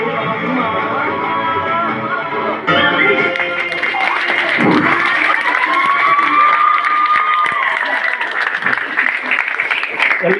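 A college auditorium audience of women degree students claps and cheers after a short drama performance, with steady dense applause throughout, a sharp swell partway through, and scattered shouts and voices mixed in.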